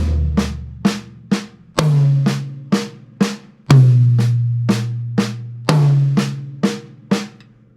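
Paradiddle drum fill played on a kit around the high tom, mid tom and floor tom at a slowish tempo: a steady stream of sharp, close strokes with accented, boomier hits recurring in a repeating pattern, no talking.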